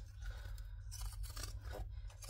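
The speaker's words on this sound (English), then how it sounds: "now we're going to take our zigzag scissors, or pinking shears, whatever you prefer to call them, and I'm going to cut off most of the seam allowance" Pinking shears snip through fabric, trimming a half-inch seam allowance on a sewn bag; a run of close, crisp, repeated crunching cuts with no talking.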